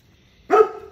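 A single sharp dog bark bursts out loud and close after near silence, then trails off, as the dogs object to a visitor coming onto the patio.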